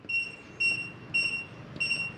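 Kwikset 914 smart deadbolt keypad on a front door emits four short, evenly spaced electronic beeps as a code is punched in, each a clear high tone over a quiet background.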